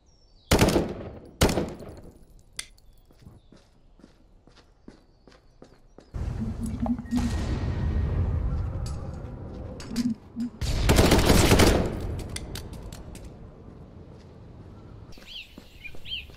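Gunfire from a VR shooting game played with a MAC11 rifle stock: sharp cracks early on, a long roaring burst of automatic fire, another loud volley, then quieter trailing sounds.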